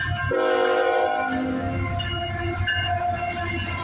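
A CN freight locomotive, number 3217, sounds its multi-chime horn in a sustained, fairly loud blast on a snowy morning, with the rumble of the passing train underneath.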